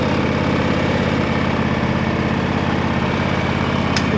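A John Deere X390 lawn tractor engine idles steadily and close by, a continuous low rumble with fine rhythmic pulsing throughout and no talk.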